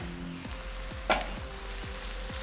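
Nigerian-style fried rice and mixed vegetables frying on high heat, a steady broad sizzle with repeated scraping stir strokes roughly every half second and one sharper clatter midway, no talking.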